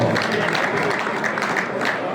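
A crowd at an awards ceremony applauds prize winners, a steady dense spread of clapping held at a fairly loud level, with faint voices mixed in.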